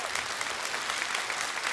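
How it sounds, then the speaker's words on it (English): Audience at a televised singing audition clapping steadily, a dense, even burst of applause from many hands at moderate distance. "Applause to you."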